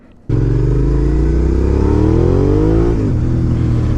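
A second-generation Suzuki SV650S V-twin with an SBK carbon exhaust fires up abruptly and revs steadily higher, then drops back to a loud, throaty idle. Close and alone, with no talking.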